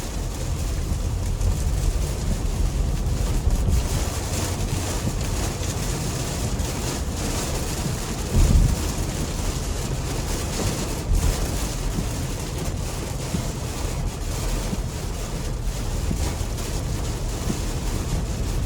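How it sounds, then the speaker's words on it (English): Steady, dense rushing noise of heavy rain drumming on a moving 2018 Nissan Armada SL, with low road rumble underneath and no voices. "Even though it's pouring rain"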